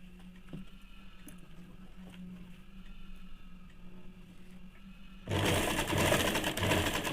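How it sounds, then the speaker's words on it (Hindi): A sewing machine stitches the side seam of a ladies' pant, first a faint low hum with light clicks, then a louder, steady whirring run of stitching for the final couple of seconds. "इसी प्रकार से दूसरे वाले साइड में भी सिलाई कर लेंगे।"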